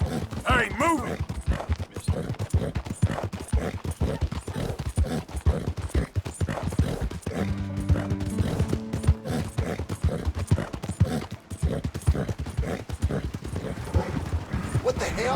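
Horse hooves gallop in a steady, fast clip-clop rhythm in the video game Red Dead Redemption 2, with a voice speaking over the hoofbeats.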